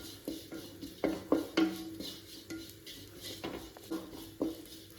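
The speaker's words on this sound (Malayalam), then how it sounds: "ഒന്നുകൂടി ഒന്ന് യോജിപ്പിച്ച് കൊടുക്കാം" Spoon scraping and clinking against a pan while masala is stirred for homemade Kerala-style noodles, a series of irregular close taps and scrapes with a faint sizzle underneath, no talking.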